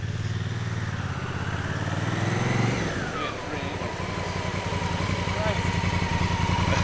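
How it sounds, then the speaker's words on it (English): A Honda Africa Twin motorcycle rides through a campground in winter, its engine droning steadily and shifting pitch as it moves past, audible at moderate distance and fairly loud throughout. "I definitely hear an Africa twin."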